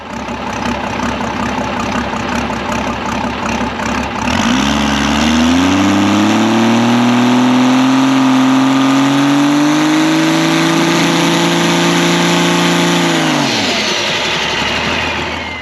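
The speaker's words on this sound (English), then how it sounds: "That was the very first spool up with the new converter here." A race car engine with a new torque converter spools up from a rough idle into a loud, steady, rising drone held for several seconds, then drops back abruptly near the end.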